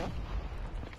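A grenade blast in COD Mobile: a short, low booming rumble that fills the whole moment, heavy and close with no clear separate onset.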